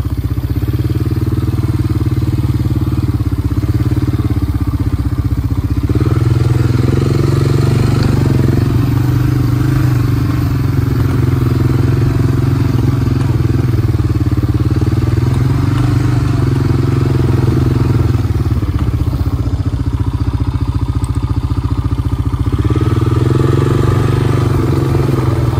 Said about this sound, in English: I'll just put the feed bunk on the four-wheeler, on the back of the four-wheeler, and I'll just bring the feed bunk to them